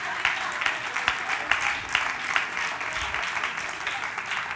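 A congregation applauds during a worship service in church, a dense wash of clapping at moderate level that holds for several seconds, with a faint voice now and then underneath.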